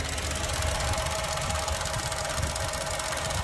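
A Vauxhall Mokka X 1.4-litre manual car engine idles steadily with a low, even rumble and a faint ticking knock, continuous and close, with no voices.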